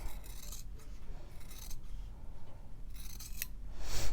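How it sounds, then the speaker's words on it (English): Scissors snip through fabric along a sewn guide line while making flying geese quilt blocks, giving several short crisp cuts with brief pauses between them, close and clear with no talking. "we're gonna take our scissors and cut on that guide line one more time"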